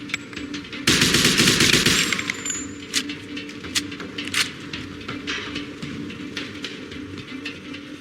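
Gunfire in the crime action video game Mafia II: a loud, rapid machine-gun burst of about a second gives way to scattered single shots ringing out at moderate distance, with no talk.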